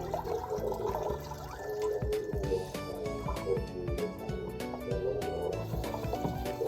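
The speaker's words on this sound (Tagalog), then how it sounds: "hugasan lang natin ang ating repolyo" Cabbage being washed in water gives close splashing, dripping and sloshing sounds with irregular squishy handling noises, steady and moderately quiet throughout.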